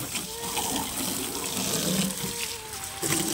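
Tap water running steadily while a car is being washed, a continuous splashing flow that stays fairly loud and even throughout, with a brief shift near the end.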